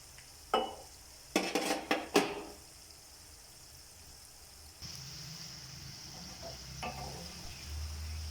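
Chicken vegetable donuts dropped into hot oil on a medium flame, a few sharp clattering knocks of utensils, then a steady soft sizzle of frying continuing faintly without voices.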